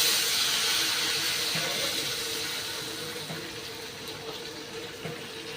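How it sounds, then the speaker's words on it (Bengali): Water is poured into fried spice paste in a hot pan, producing a loud hissing sizzle that slowly fades over several seconds. "মশলা কষানো হয়ে গেছে জল দিয়ে দেবো"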